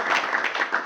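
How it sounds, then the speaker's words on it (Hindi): A seminar audience claps in a brief, dense burst of applause, steady and fairly close, with no talking over it. "तालियां हो जाए।"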